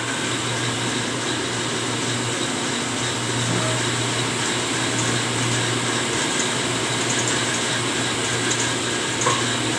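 An Isuzu 4JA1 diesel injection pump running on a calibration bench: a continuous, even mechanical whir and hum with a steady tonal drone, loud and unbroken throughout, with no voices.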